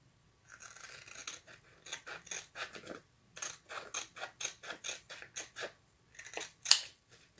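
Scissors snipping through a paper Chalk Couture transfer sheet, a long run of steady, close crisp cuts in short bursts with brief pauses, one sharper snip near the end, and no voices.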